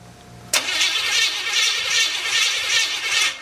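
A Chevrolet 350 SS V8 engine cranks hard and steadily after a quiet moment, a loud close churning grind that holds through the rest of the stretch with no talk.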